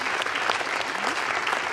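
A concert audience claps at an outdoor gala in a park, a dense, steady wash of many hands applauding close by, with faint voices mixed in.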